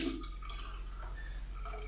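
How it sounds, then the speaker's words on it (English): Tap water runs steadily into a sink, rinsing out a conical flask, with a soft, continuous wash of water at low volume and no talking. "I'm going to start off just dumping that in the sink, and then with a lot of tap water,"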